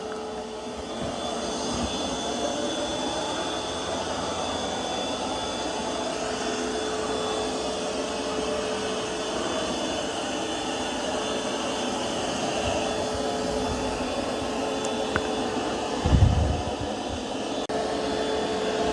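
A Roborock Curv 2 robot vacuum works across carpet with a steady whirring drone, one brief bump near the end, and no voices.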